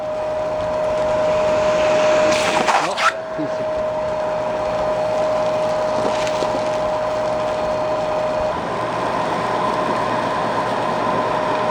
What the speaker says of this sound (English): Now I can vacuum up all this stuff that came off